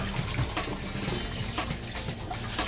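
Potatoes being scrubbed and rinsed for oven chips under a running tap make a continuous splashing flow of water with small irregular sloshes throughout.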